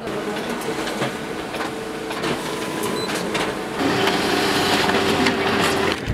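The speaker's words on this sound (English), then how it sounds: "everybody else is printing their shit off too" Printers run in a shared copy and print room, a steady mechanical churn with rhythmic clicks that grows louder partway through.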